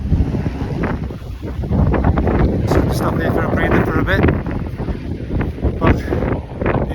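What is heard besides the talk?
wind at Thukla Pass, Everest region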